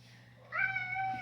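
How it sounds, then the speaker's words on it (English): A house cat gives a single short meow close by, rising clearly out of a quiet room. "Oh, there's my cat."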